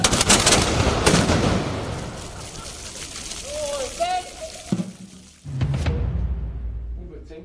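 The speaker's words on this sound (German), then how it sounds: "fielen vor dem Rathaus sogar Schüsse" Ceremonial gunshots ring out at an honor parade on a town market square in front of the town hall, several sharp cracks in quick succession early on, followed by crowd noise and a lower rumble near the end.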